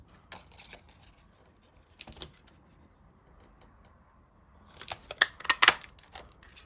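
Scissors trim small bits off paper scraps for a folded greeting card. Quiet, scattered snips come first, then a quick cluster of crisp cuts close by near the end.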